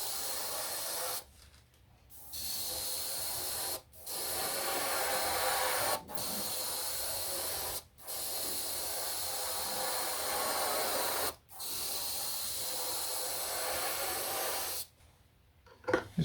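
An airbrush sprays paint thinned with thinners, giving a steady close hiss in several bursts of about two to four seconds, each ending in a brief gap before it resumes.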